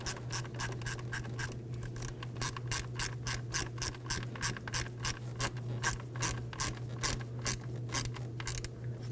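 A hand ratchet clicks in a quick, even rhythm, close up, snugging the camshaft position sensor bolt on a 2008-2011 Ford Focus 2.0L, over a low steady hum.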